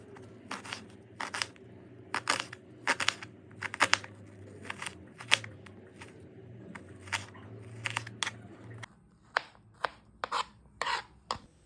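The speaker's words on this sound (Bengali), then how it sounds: "এখানে আমি মিডিয়াম সাইজের 2টো পেঁয়াজ কুচি করে কেটে নিচ্ছি" Two medium onions are finely chopped with a knife on a board, giving a steady run of sharp, close thuds with short pauses over a low background hum.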